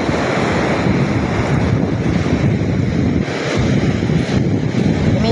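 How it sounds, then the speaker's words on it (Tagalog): Strong wind buffets the microphone over the roar of ocean waves crashing nearby, a continuous loud wash with no talking. "kasagsagan ng malakas na hangin dito, tsaka hampas din ng alon."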